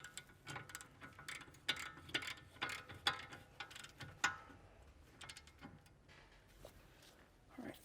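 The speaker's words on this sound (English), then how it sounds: "Now we've got our ratcheting wrench just to save us some time." A ratcheting wrench tightens a front brake caliper bracket bolt on a 2015-2018 Mercedes-Benz W205 C300, giving quiet, rapid bursts of small metallic ticks in uneven spurts.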